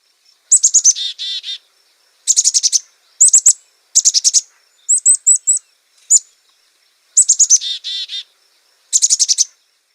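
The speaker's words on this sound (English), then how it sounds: "It sounds like they're saying chickadee dee dee dee dee." A black-capped chickadee gives its chickadee-dee-dee call in repeated bursts of high, buzzy notes, clear and close against a silent background, with short pauses between phrases.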